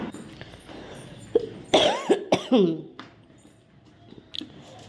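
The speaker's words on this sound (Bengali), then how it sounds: "এই খুসখুস যে কাশিটা হচ্ছে" A few short, dry coughs in a quick cluster, close by, followed by a quieter throat sound against a faint room hum.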